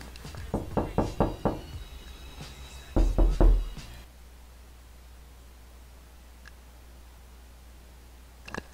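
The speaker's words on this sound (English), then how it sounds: "Dude, someone's knocking on your door for real." A run of about five sharp knocks on a door, a short pause, then a heavier cluster of thuds, fairly close and clear against a quiet background with faint game sounds.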